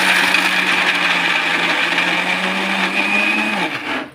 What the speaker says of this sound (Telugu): ఇలాగ మిక్సీలో మనము రుబ్బుకోవడమేనండి